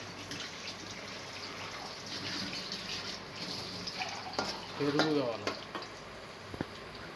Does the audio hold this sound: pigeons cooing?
no